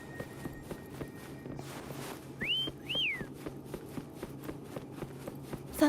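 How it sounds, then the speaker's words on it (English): Two rising-and-falling whistles, clear and close, over soft rhythmic footsteps and faint game background sounds in Wuthering Waves. "Try whistling."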